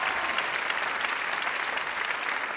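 Studio audience applauding on a Thai code-breaking game show, a dense, steady burst of clapping that fills the short stretch on its own at moderate level.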